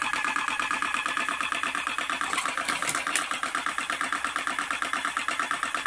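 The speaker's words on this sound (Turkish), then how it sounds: "Gayet güzel sarıyor. Sıkıntısız şekilde 3 haftadır kullanıyoruz makineyi." A tobacco rolling machine runs steadily in a fast, even mechanical rhythm of whirring and clicking, close and moderately loud, with no voices.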